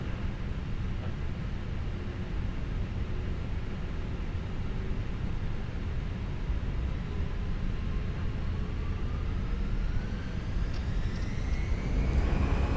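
A320neo jet engines spooling up during a takeoff roll in a flight simulator: a steady, loud roar of broadband engine noise with a thin tone rising in pitch toward the end as thrust builds.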